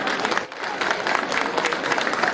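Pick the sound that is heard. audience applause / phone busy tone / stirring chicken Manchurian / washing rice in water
audience applause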